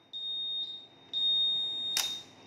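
A continuity tester beeps while the key wiring of a Honda Vision K44 scooter is being checked. A short high beep is followed by a longer one, ending in a sharp click, close and clear in a quiet workshop.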